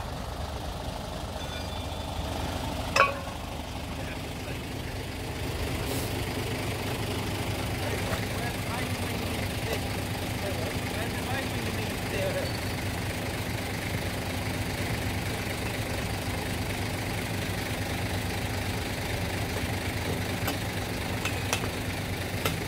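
A fire engine idles at a hydrant during a fire at Hoo Farm, Kidderminster, its deep, steady diesel rumble running throughout with one brief clank, and indistinct voices in the background.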